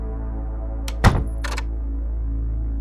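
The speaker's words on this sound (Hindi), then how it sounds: "उन्होंने जल्दी से डोर बंद किया" A door is quickly shut with one solid thunk and a short rattle of the latch, set against a steady low hum, with a faint click before and after.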